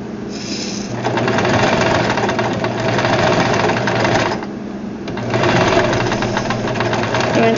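A sewing machine stitches fabric in steady bursts of rapid mechanical chatter, pausing twice between runs, close and fairly loud.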